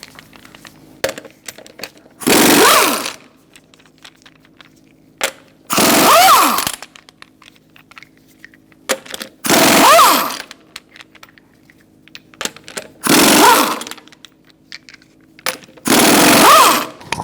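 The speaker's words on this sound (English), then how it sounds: "Using a 21mm socket, we're going to remove our lug nuts." An impact wrench with a 21mm socket spins lug nuts off the front wheel of a 2005-2010 Chrysler 300, firing in five short, loud hammering bursts about every three and a half seconds, with quiet gaps between.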